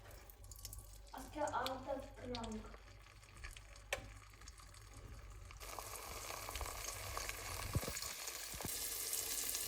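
Pre-cooked rice with egg, vegetables and onion fries in a pan, a steady low sizzle with scraping stirs, while a voice speaks briefly early on.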